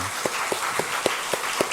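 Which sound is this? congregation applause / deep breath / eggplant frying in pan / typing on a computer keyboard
congregation applause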